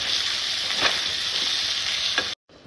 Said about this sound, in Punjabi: ਲੋ ਜੀ ਚਨਿਆਂ ਦੇ ਵਿੱਚ ਆਪਾਂ ਤੜਕਾ ਆਪਣਾ ਐਡ ਕਰਤਾ